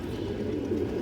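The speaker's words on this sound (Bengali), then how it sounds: "এই যে দেখেন নটটা লাল দোবাস নর কবুতর" Red Dobaz pigeons coo in a low, steady, continuous murmur, close by and alone with no voices.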